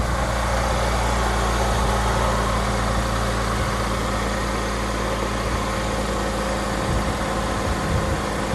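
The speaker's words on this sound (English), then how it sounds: "We got the engine on here." A Honda K20 car engine idling steadily up close, a constant low rumble with broad mechanical noise and no talking.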